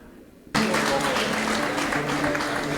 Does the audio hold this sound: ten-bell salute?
no